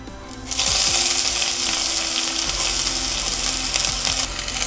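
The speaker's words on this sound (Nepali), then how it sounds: "प्याजलाई चाहिँ हल्का ब्राउन हुने गरेर एकैछिन फ्राई गरौँ" Fenugreek seeds and onion hit hot oil in a pan for moong dal, a loud sizzle bursting in after a quiet start and crackling steadily, with a few metallic clinks early on and no voices.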